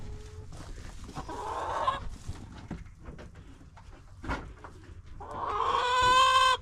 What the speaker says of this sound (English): Say there's a chicken in here.